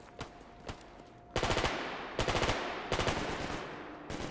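Bandits in the video game S.T.A.L.K.E.R. GAMMA trade gunfire, starting with a few scattered distant shots, then loud bursts of rapid automatic fire in several volleys.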